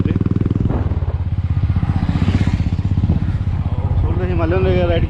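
A classic motorcycle thumps along with a loud, rhythmic single-cylinder beat while being ridden, someone talking over it.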